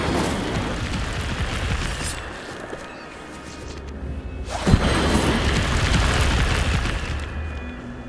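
Incendio fire spell from Hogwarts Legacy, a sustained roaring, rumbling blast with a sharp burst near the middle, loud and continuous.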